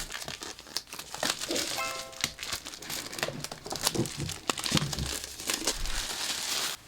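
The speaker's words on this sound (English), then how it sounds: "Let's take it out of the plastic." Plastic shrink-wrap is peeled and torn off a Savage Dragon Vault Edition Vol. 1 hardcover book, giving close, continuous crinkling and crackling with sharper rips throughout.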